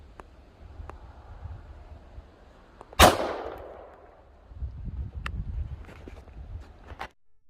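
A single loud, close gunshot from a .40 caliber S&W M&P pistol firing a Barnes TAC PD round into a gel block, with a sharp crack and a short decaying echo, followed by faint shuffling and handling noises outdoors.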